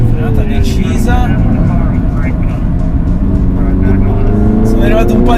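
MINI JCW GP 2020 hatchback engine pulling hard on a race track, a loud continuous drone with rising pitch sweeps through the gears, heard close from inside the car.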